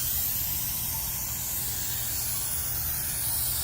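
A steady, continuous aerosol spray of activator hisses close by for several seconds without a break, during carbon-pattern painting work, with no talking over it.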